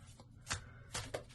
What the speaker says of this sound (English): Now let's shuffle your deck with intent.